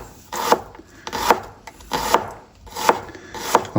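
A sharp kitchen knife finely slicing mushrooms on a board, five distinct close cuts spaced roughly every 0.7 seconds, each a crisp swishing slice ending in a light knock.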